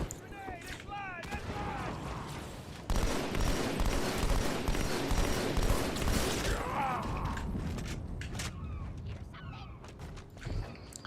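Gunfire in the Halo video game, a dense burst of rapid shots and clattering impacts running for several seconds amid mechanical creaks and effects, with quieter game sounds before and after.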